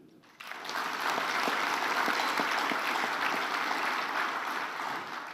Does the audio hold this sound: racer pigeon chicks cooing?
no